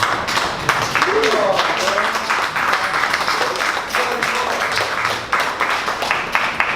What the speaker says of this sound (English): let's give one more round of applause to Momentum Technologies